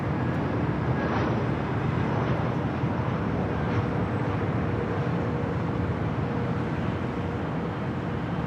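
Delta Airlines Airbus A321 jet arriving at LAX, heard as a steady, broad engine roar with a low rumble that stays loud and even throughout, with no voices.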